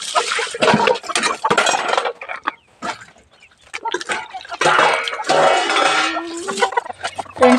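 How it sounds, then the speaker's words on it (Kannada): Dishes and containers are washed by hand, with irregular clattering, clinks and running-water splashes in bursts, pausing briefly before resuming. "ಪಾತ್ರೆನ ವಾಶ್ ಮಾಡೋಕ್ಕೆ ಅಂತ ಅಂದ್ಬಿಟ್ಟು ಡಬ್ಬೆಲ್ಲ ತೊಳೆದಿಡ್ತಾ ಇದ್ದೀನಿ"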